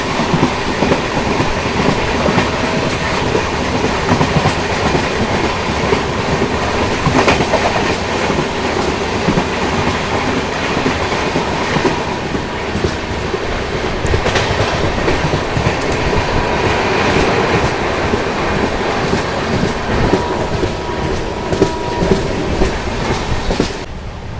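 A loud passenger train rumbles steadily past at close range, wheels clattering rhythmically over the rails for the whole stretch, with no voices.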